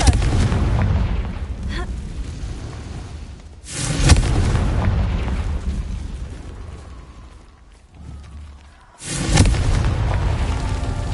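Loud booming blasts from the Confringo spell in Hogwarts Legacy, two heavy detonations a few seconds apart with rumbling tails, close and forceful.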